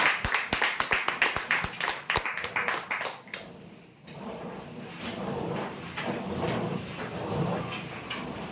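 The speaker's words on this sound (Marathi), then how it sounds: "जोरदार टाळ्या होत्या यासाठी" A small gathering claps for a winner at a weekly lottery prize draw, the one taking a 3x6 bed. A quick burst of sharp, uneven hand claps fades into a steady murmur of room noise.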